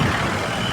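A tempo truck is passed on a road, giving a brief, loud, close roar of engine and wind noise with no talking.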